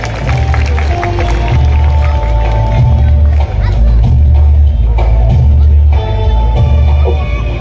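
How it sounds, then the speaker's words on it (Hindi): A crowd at a Tipu Sultan Jayanti celebration in Kondhwa Khurd claps and cheers loudly and continuously over booming stage sound and chatter. "जोरदार तालियां इसके लिए।"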